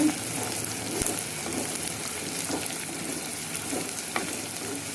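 Onions sauté in a pan for a dry fish curry, giving a continuous soft sizzle and frying hiss with occasional scrapes and clicks of stirring, close and steady.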